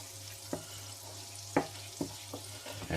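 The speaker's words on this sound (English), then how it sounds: "You can smell the garlic is beginning to fry up nicely now." Garlic fries in butter in a pan with a steady soft sizzle, broken by several louder scraping stirs at irregular moments, close and moderately quiet with no talk.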